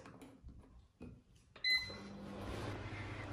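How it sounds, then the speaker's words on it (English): A microwave oven is started after a few faint clicks, giving a sharp beep followed by a steady, low electrical hum as it begins heating. "We are going to put it in the microwave and heat it up for a bit so that it softens."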